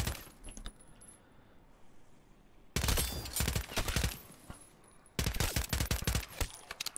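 Bursts of SMG fire aimed at zombies in Call of Duty MWZ: three clusters of rapid, sharp shots, the first brief and the next two longer and louder, separated by quieter gaps.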